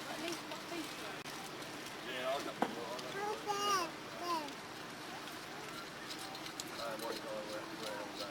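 Faint clip-clop of horse hooves at a distance at a historical reenactment festival, a horse trained for battle, mixed with murmured voices and outdoor background noise.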